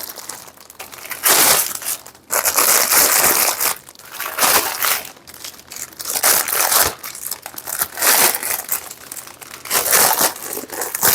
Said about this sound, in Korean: 이 비닐 같은 것도 이게 약한 비닐이 아니거든요. 벗길 때 조금 주의를 하셔야 돼요.